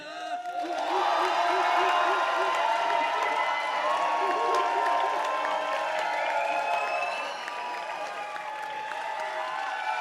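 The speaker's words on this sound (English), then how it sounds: "can I hear you cheer for Harry Baker?" A rap battle audience roars for a contestant with loud, sustained cheering, whoops and applause that swell after a brief opening and carry on for several seconds before easing slightly.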